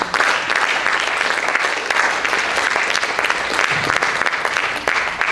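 A church congregation applauding to acclaim the Lord, a dense, steady wash of clapping hands that carries on unbroken from start to finish with no pause.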